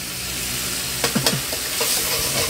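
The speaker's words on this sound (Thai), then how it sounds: "ทอดนะครับผม" Bonito fish sizzles steadily in a frying pan seasoned with pepper and sugar, a constant hiss broken by a few sharp scraping stirs near the middle.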